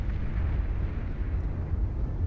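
Boats in Beyond All Reason pound away with plasma guns and main cannons, a heavy continuous rumble of distant explosions blending into one deep, roaring battle din.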